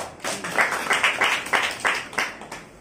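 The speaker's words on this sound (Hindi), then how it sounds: "चलिए मैं सारे जोरदार तालियां करते हैं।" A classroom of students claps together in a steady rhythm, with regular bursts of group clapping about every half second, fairly close and moderate in volume, with no speech.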